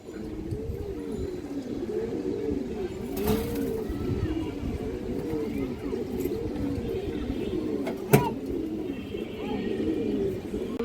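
Club pigeons coo continuously in a soft, rolling chorus of repeated calls, close and steady throughout, with a brief knock partway through.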